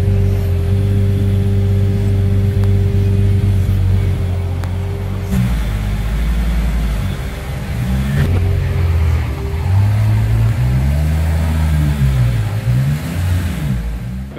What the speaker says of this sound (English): first up on the dyno will be the test pipe, or decat pipe, which Mark was putting on now.